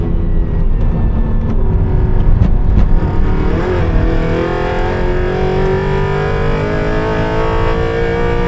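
A track-built Aston Martin Vantage V8 at full throttle on the Nürburgring, its engine roaring loud and close with a rising pitch as it accelerates steadily, joined by wind rush and no voices.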